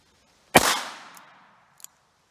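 A single sharp, loud crack from a Smith & Wesson 317 .22 revolver fired one-handed while standing, with a short ringing decay and a faint metallic click about a second later.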